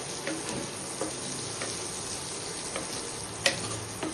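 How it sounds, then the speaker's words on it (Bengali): Potatoes frying in oil in a home kitchen, a steady close hiss of sizzling with occasional faint pops and clicks throughout. "আলুটা একবার ভেজে নিচ্ছি"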